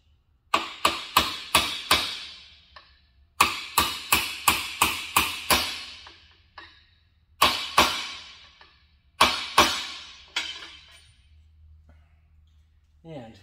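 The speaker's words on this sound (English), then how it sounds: "I'm gonna tap it with my hammer and punch" Sharp metallic hammer taps on a punch while fitting a cooling fan arrive in quick groups of four to six, separated by short pauses, each strike ringing briefly.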